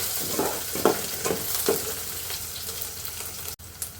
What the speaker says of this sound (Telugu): ఇప్పుడు ఉల్లిపాయలు పలుకులు వేస్తున్నాను